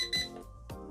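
A Holy Stone HS440 camera drone's transmitter sounds a short electronic power-on beep tone, close and clear, with a second beep following moments later.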